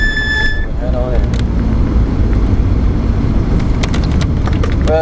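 A racing car on the Mondello circuit snaps out a sharp exhaust crack and rumbles close by, with a brief high whine at the start and voices talking over the engine noise.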